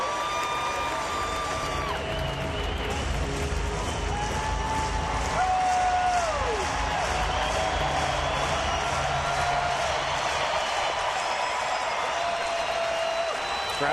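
A baseball stadium crowd of about 18,000 makes a steady roar of cheering and murmur, with a few whistles rising above it.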